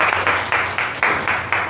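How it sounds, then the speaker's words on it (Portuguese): A church congregation claps in bursts, about seven loud rhythmic swells of applause close by, with no talk over them. "Você pode aplaudir o Senhor?"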